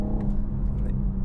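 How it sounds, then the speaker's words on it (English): A BMW M440i coupe's engine pulls hard under acceleration, a steady droning rumble close and fairly loud inside the cabin over about a second, with faint higher whines over the top. "E-boost, and you hear that motor sing."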